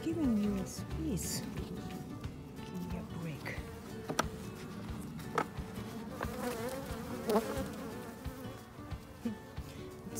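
Honey bees buzz around hive boxes while honey frames are added, a continuous low hum running under close talking, with occasional clicks and knocks from handling the boxes.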